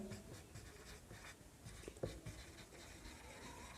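Pen or pencil writing on paper, with quiet continuous scratching strokes and brief taps, close and faint, with no speech.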